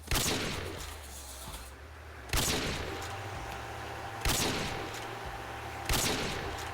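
Sniper rifle fire in the Roblox video game: four loud, sharp shots ring out at roughly two-second intervals, each followed by a short echoing tail, with a low game rumble underneath.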